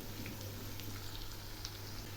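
Potatoes fry in hot oil in a pan, a steady, soft hiss of sizzling with faint crackles scattered throughout and a low hum underneath, continuous and fairly quiet.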